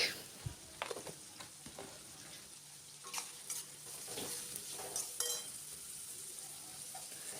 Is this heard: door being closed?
no